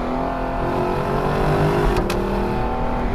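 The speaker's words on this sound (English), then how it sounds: "This engine and the exhaust note, and you don't hear the exhaust note as well when the top is up." Lexus LC500 convertible V8 engine and exhaust note, a loud, steady low drone with a sustained engine hum held at constant pitch, close and continuous throughout.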